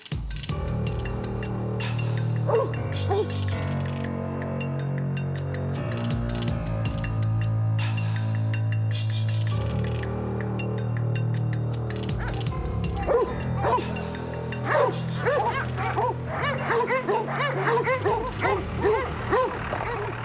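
Akbash guard dogs bark and yip repeatedly, with whimpers and a few metallic clinks, over a steady low hum; the barking grows busier toward the end.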